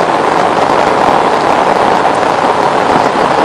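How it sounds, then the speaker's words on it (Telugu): Heavy monsoon downpour in Hyderabad, pouring nonstop for about 45 minutes in the Madhapur area: a loud, continuous, dense roar of rain hitting surfaces, close and steady throughout with no talk. "ఆగకుండా వర్షం కురుస్తూనే ఉంది"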